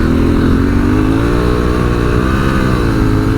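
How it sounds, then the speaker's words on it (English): A 2022 Honda Africa Twin motorcycle's big engine runs loud and steady close by, a continuous rumbling drone with no talk over it. "And it's a big motorcycle,"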